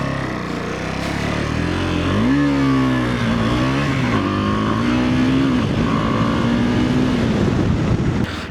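A KTM 390 Adventure motorcycle revs hard during a wheelie, the engine droning loud and steady, with its pitch climbing, wavering and settling through the run, close and unbroken, with no voices.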